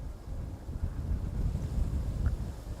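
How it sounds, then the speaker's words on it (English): Steady wind at Schiphol airport, a low rumbling gust buffeting the microphone with continuous broadband roar and no clear breaks, fairly loud and close. "It feels like the wind is picking up"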